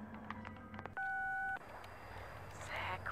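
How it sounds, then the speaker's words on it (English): A telephone in the game Answer Knot gives a short run of dialing tones and beeps, then one steady two-tone signal for about half a second, with quiet background sound around it. "Answer the phone."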